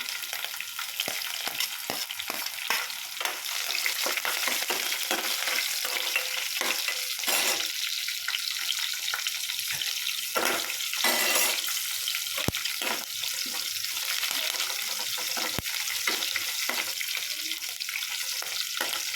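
Green chillies fry in hot oil with mustard seeds, cumin and curry leaves, making a loud, steady sizzle with intermittent stirring scrapes and clinks for a long stretch.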